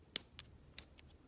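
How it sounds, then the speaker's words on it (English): Small cuticle scissors snipping a fake nail for zombie foot makeup: four or five crisp, close metallic snips at uneven intervals, the first loudest, with no talking. "I take my little cuticle scissors"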